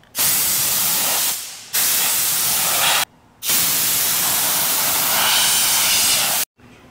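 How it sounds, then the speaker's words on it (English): Touch-up paint sprayed onto the trunk lid of a 2002 Acura RSX Type-S DC5 in long, loud, close hissing bursts, broken by three short pauses between passes. "we're just applying some touch-up paint there to prevent it from possibly rusting"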